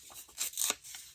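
Paper being torn by hand for a mixed-media collage page, in a few short ripping bursts and rustles, close and fairly quiet, with no talking.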